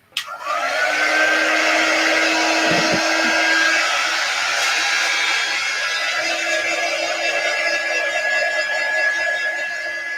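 A heat gun drying a chalk paste transfer craft, switching on abruptly and then blowing as a loud continuous whirring whine with a steady high tone, close by and uninterrupted for about ten seconds with no talk.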